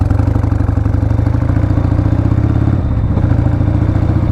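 A lightly customised Harley-Davidson Sportster motorcycle runs steadily while riding, its V-twin engine a loud, continuous close-up rumble with a rapid pulsing beat and mechanical clatter, dipping briefly before holding on.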